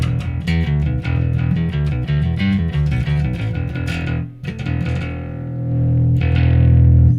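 A distorted electric guitar plays a fast run of notes, then sustains a few held chords with heavy effects, loud and up close.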